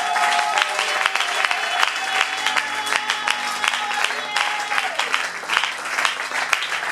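A church congregation at an evangelistic service claps and cheers loudly and continuously, dense applause with a few shouts and voices mixed through it.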